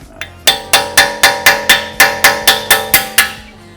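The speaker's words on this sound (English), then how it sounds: "use your chisel to make a dimple in the outside edge of the screw" Steel chisel hammered against a stripped brake rotor screw on an Acura TLX Type-S, about a dozen sharp, ringing metallic strikes at a steady, quick pace, close and loud.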